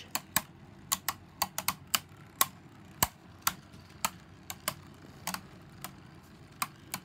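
Beyblade tops spinning in a stadium send out a steady run of sharp, irregular clicks and clacks as they collide, loud and close, with no voices.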